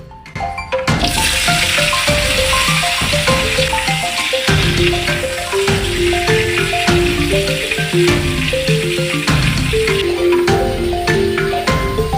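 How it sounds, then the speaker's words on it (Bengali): Cauliflower florets fry in fish oil, a continuous close hissing sizzle throughout with light stirring noises, under steady background music and no talking. "এখন এই মাছের তেলটার মধ্যে ফুলকপিগুলা সুন্দর করে ভাজা নেবে, একদম লাল লাল করে"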